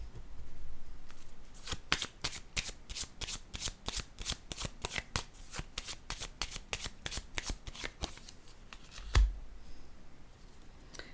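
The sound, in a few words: laying down another playing card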